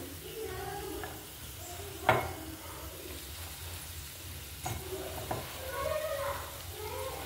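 Crushed garlic dropped into ivy gourd frying in a pan gives a steady close sizzle with a few sharp crackling bursts and scrapes, and a faint voice sits low underneath.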